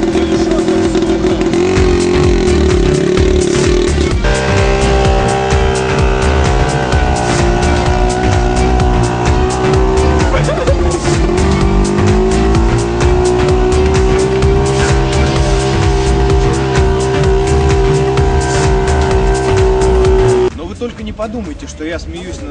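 A very noisy small car, a disabled person's microcar, drives on with a loud, continuous engine drone whose pitch shifts and climbs, then drops off near the end, with talking mixed in.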